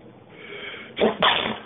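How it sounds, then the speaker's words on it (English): One quick sneeze up close, a short two-part burst with a breathy catch and release, set against quiet background hiss. "I often make that whew noise after I sneeze."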